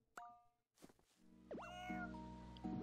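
Cartoonish cat meows from the casual video game So Many Kitties, several short pitched mews mixed with soft plops and boing-like game effects against a quiet background music bed.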